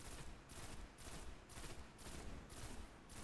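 Rapid gunfire from the video game Destiny rattles in dense repeating bursts, loud and close, with no pauses long enough for quiet and no voices over it.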